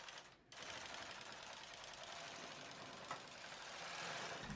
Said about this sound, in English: knit 1 more row